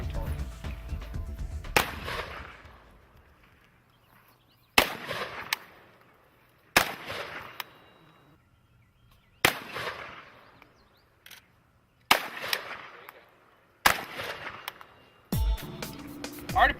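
An AK47/AK74 rifle fires about seven loud, sharp single shots with ringing decays during a shooting drill, spaced every two to three seconds.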